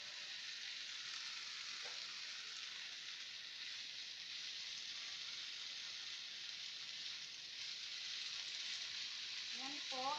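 Beef sizzling steadily in a pan with potatoes for adobo, a continuous loud frying hiss throughout with a few faint clinks near the end.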